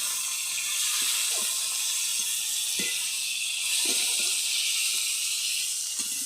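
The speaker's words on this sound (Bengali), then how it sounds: "টমাটোটা ভালো করে ভেজে নেবে" Tomatoes added to browned onions in a pan for a chicken curry give a steady, close hissing sizzle throughout, with faint clicks of a utensil now and then and no talking.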